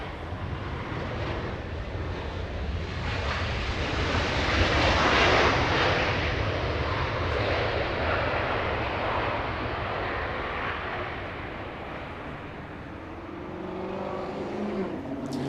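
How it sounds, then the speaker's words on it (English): A JetBlue Airbus A321 arriving from Newark touches down at Los Angeles International, its jet roar building to a loud peak midway and then easing, with a broad rushing hiss over a deep engine rumble. "We have an A321, an arrival, flying in from Newark, a 5-hour, 23-minute flight, touching down right in front of us."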